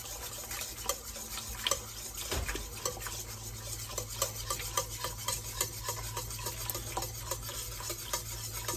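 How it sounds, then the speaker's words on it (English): A whisk scrapes and clinks steadily against a pot as a roux is stirred for pumpkin and apple soup, making rapid repeated metallic taps over a soft simmering hiss. "we're going to whisk this into there"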